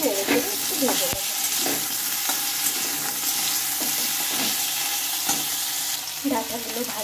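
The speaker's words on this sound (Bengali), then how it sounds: "হালকা করে নেড়ে চেড়ে একটু ভেজে নেব।" Drumstick stalks sizzle in hot oil in a kadai while being gently stirred, a constant close frying crackle with intermittent scraping and clinking of the utensil.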